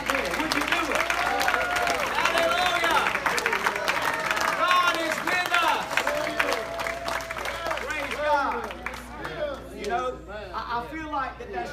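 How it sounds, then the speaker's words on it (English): A church congregation at a Wednesday gospel tabernacle service claps hands in praise, a dense crackle of clapping mixed with voices and shouts, fading toward the end as talk continues. "Give him a hand clap of praise right there"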